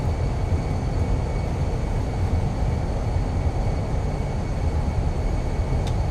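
Fenix A320 thrust reversers deployed on landing in a flight simulator: a loud, steady broadband roar of engine noise holding evenly throughout, with no voices over it.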